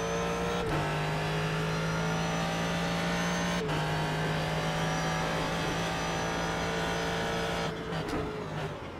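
Ford GT3 race car at Daytona in the iRacing video game, engine roaring loud and close, dropping in pitch as it brakes and downshifts, with steady revving throughout.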